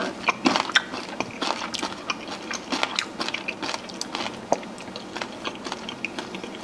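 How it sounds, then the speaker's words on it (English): Crispy skin of lechon kawali, deep-fried Filipino pork belly, crackles under biting and chewing, a run of close, sharp, irregular crunches with no talk. "what you look for here is the crunch of the skin"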